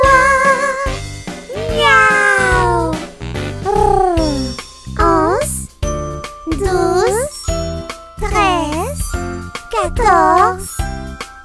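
Repeated cartoonish cat meows ring out through a French counting song for babies, alternating with sung phrases over a bright, jingling musical backing.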